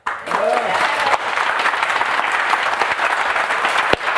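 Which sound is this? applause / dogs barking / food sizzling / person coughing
applause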